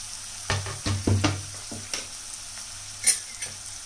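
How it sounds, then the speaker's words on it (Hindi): Onion and green chillies frying in a pan for Punjabi sarson ka saag, a soft continuous sizzle broken by several scraping stirs of a spoon, close and fairly quiet. "हल्का भूरा होने तक भून लेंगे।"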